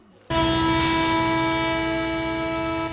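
A loud train horn blares suddenly and holds a sustained, steady tone over rail rumble, lasting nearly the whole time.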